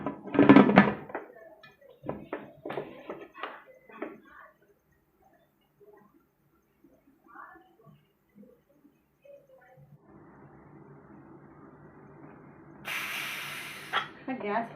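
A pressure cooker making tomato rice vents steam in a loud hissing rush near the end, after quieter kitchen clatter and soft noises.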